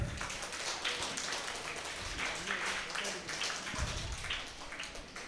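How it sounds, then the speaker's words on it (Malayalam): An audience in a classroom reading session claps together. The applause is a fairly faint, steady patter of many hands lasting several seconds, with some voices mixed in. "ഒന്ന് കൈയടിച്ചേ എല്ലാവരും"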